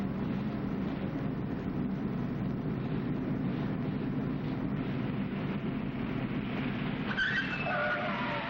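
A car brakes hard from 30 mph and skids during a 1971 crash-avoidance driving exercise, a steady, fairly faint roar of tires on pavement with a brief higher squeal near the end.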